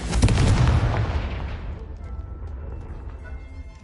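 The Confringo fire spell in Hogwarts Legacy is cast as a loud, sharp blast that booms and crackles, then fades into a rumbling decay over a few seconds. No one speaks over it.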